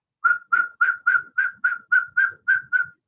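Small eagle whistles blown by young boys at a drum circle teaching, ten short shrill whistle blasts in a steady, evenly spaced rhythm, loud and close with nothing else heard.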